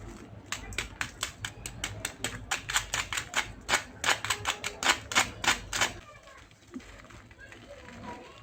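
Crispy fried potato donuts are bitten or broken, a quick run of sharp crunches in close succession, loud and near, for about six seconds. The crunching stops and a short quiet stretch follows.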